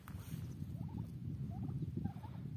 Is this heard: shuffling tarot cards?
no